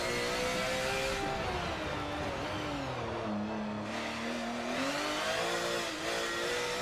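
A Porsche on a hot lap in Forza 7: a steady engine tone rises and falls through gear changes, dipping low before climbing again, smooth and continuous with no voices.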